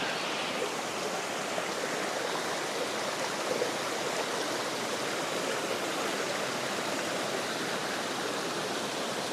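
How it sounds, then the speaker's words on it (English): Steady, loud, unbroken rushing of a small mountain tributary stream tumbling down and flowing into a creek along a forested Tennessee ridge trail, a dense wash of water noise with no voices. "We've got a little tributary coming off the mountain here, flowing into the creek itself."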